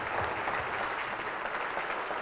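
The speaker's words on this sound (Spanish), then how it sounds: "Yo quiero que le demos un aplauso, bendito Dios." A congregation at a Spanish-language church service claps together; steady, dense applause from many hands in a large room, continuous and fairly loud with no talking over it.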